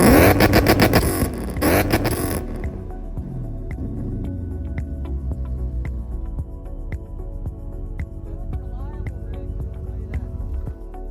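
An older BMW V8 car engine revs hard against the rev limiter in a loud, stuttering burst, then drops to a rough, steady idle with faint ticking.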